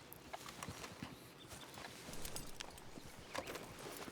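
Horse hooves clip-clop in Red Dead Redemption 2, faint, irregular footfalls of a horse walking, soft and quiet under low background ambience.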